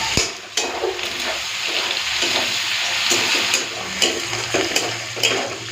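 Potato pieces frying in hot oil in a pan until browned, a steady broadband sizzle with faint stirring clatter and a few sharp utensil knocks, fairly close and without talk.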